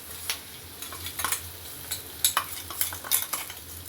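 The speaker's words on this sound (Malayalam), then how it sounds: "നല്ല പോലെ അതിൻ്റെ പച്ചച്ചോവ മാറുന്നത് വരെ ഇങ്ങനെ വഴറ്റി ഇങ്ങോട്ട് എടുക്കാം കേട്ടോ" Crushed coconut is sautéed in a pan for a spring onion thoran: a utensil scrapes and stirs in irregular close strokes over a soft sizzle, with no talking.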